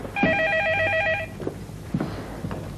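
A telephone rings with a bright, warbling electronic trill lasting about a second, followed by quieter household movement and faint voices in a domestic scene from a classic television play.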